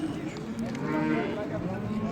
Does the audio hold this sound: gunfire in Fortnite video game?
no